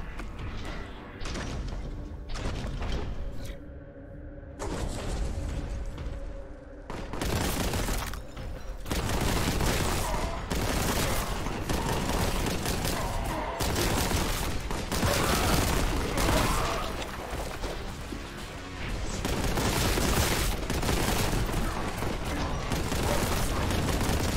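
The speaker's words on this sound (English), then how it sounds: "Yep, another grenade." Video game combat with loud, dense gunfire and heavy blasts, including a grenade explosion, that run almost unbroken and close up, with no talking.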